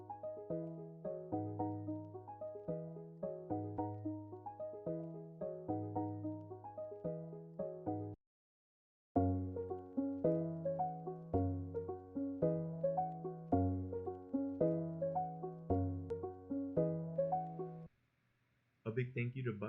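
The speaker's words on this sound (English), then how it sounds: "let's have a listen to the original sample" An original music sample for a lo-fi glitch beat, with repeating melodic notes over a looping bass pattern and a brief dropout midway through, playing alone at moderate level.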